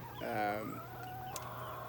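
A chicken gives a short burst of clucking close by, followed by quieter background farmyard noise.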